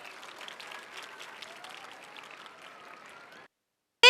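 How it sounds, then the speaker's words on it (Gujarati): Audience applause for a teacher at a school honouring ceremony, a soft, dense patter of many hands clapping that runs steadily for about three seconds and then stops abruptly. "આપણા સેજલબેન માટે એકવાર જોરદાર તાળીઓ થઈ જાય."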